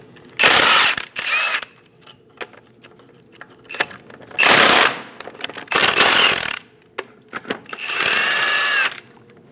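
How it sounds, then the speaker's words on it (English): Loud bursts of a power wrench with a 22mm socket spinning off the eight lug nuts of a 2001-2006 Chevrolet Silverado 2500 HD wheel, several separate whirring runs with quiet gaps and small clicks between them. "Using a 22mm socket, remove all 8 lug nuts."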